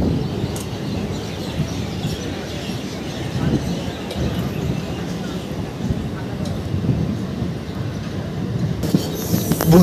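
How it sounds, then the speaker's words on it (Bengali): A Howrah–Bardhaman super local train rolls into Belgharia station at a steady rumble, with wheels on rails and faint squeals, its loud continuous noise rising near the end, and a voice talks over it. "আমাদের ট্রেন চলে আসলো এখন বেলগুড়ি স্টেশনে"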